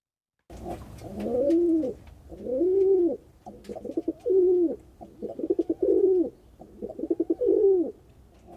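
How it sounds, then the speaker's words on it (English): Rock dove pigeon cooing in five or so repeated throaty coo phrases, close and clear, with short pauses between them and no voices. "rock dove pigeon."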